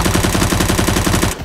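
Rapid automatic gunfire in CS:GO Danger Zone, loud and close, a fast even burst of shots that cuts off abruptly near the end.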